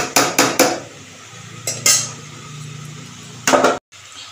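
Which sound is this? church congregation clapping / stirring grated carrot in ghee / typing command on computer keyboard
stirring grated carrot in ghee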